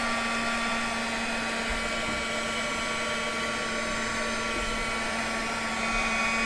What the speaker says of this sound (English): So let's find my heat gun here and